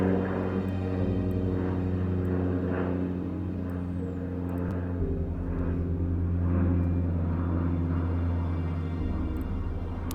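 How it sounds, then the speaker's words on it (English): Airplane passing overhead during a spiritual livestream, a steady, droning engine rumble that holds throughout, moderately loud and continuous with no talk over it. "And I apologize for the plane passing overhead."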